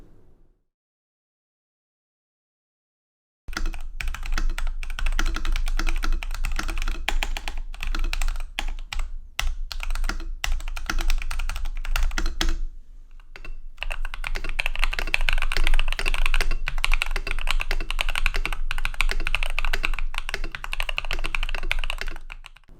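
Typing on an Epomaker TH80 custom keyboard fitted with Feker Matcha keycaps, heard as a steady stream of close, crisp keystrokes after a few seconds of silence, with a brief pause midway before the typing grows denser and faster.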